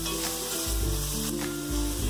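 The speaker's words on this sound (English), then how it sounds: "we give our bacon and our ham just a little toss." Bacon and ham fry in a pan for Puerto Rican arroz con gandules, a loud continuous sizzle with brief bursts as the meat is tossed.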